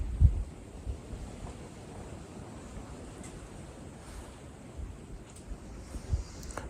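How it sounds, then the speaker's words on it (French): Wind blowing outdoors makes a faint, steady low rumble of microphone buffeting, with a few soft gusts rising and falling throughout. "comme on peut voir, il y a quand même du vent"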